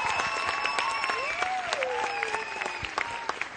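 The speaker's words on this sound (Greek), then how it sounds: "ένα χειροκρότημα." Studio audience of a Greek television game show applauding the players, a continuous wash of clapping beneath overlapping tones and a voice, with a few sharper claps standing out.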